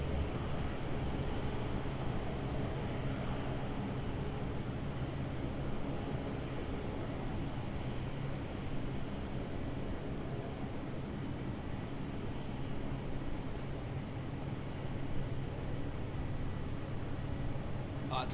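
An airliner takes off from runway 01 right at Brisbane Airport: a steady, broad jet engine roar that stays constant and fairly distant throughout, with no talk.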